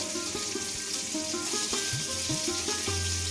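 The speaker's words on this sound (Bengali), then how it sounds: "পেঁয়াজ দিলাম, পেঁয়াজও দেবো, 5 ফোড়ন, শুকনো লঙ্কা, মানে একটু ভাজা ভাজা টাইপের থাকবে" Oil sizzles steadily as onion, five-spice and dried chillies fry, beneath a series of soft knocks and scrapes from stirring, close and moderately loud, with no speech.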